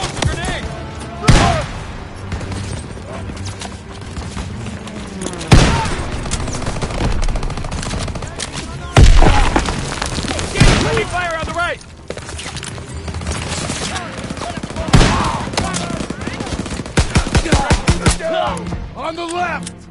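Grenade blasts and gunfire in the video game Call of Duty WWII: repeated sharp shots, rapid bursts and heavy thuds scattered across a noisy battlefield, with voices shouting in between.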